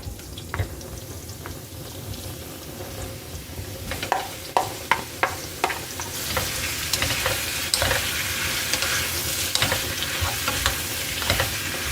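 Food frying in cooking oil in a pan, a steady hiss that grows fuller and louder midway, punctuated by repeated clicks and taps of a utensil stirring against the pan, with no voices.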